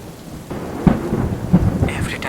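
Rain and thunder outside a balcony: a steady wash of rainfall with two heavy thunder rumbles and some higher splashing near the end, no voices.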